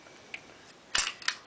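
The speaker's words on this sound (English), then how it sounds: "it's bolt action, you know, you gotta pull it up and then pull it back and then push it in" Echo1 M28 airsoft sniper rifle having its bolt worked: a faint click, then a sharp metallic clack and two quick follow-up clicks close to the mic, with no talking.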